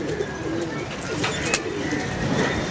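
Pigeons cooing at a loft, soft low coos running under steady background noise and faint voices nearby, with a few brief brighter bird calls mixed in.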